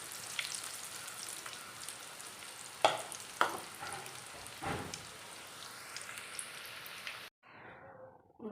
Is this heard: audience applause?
no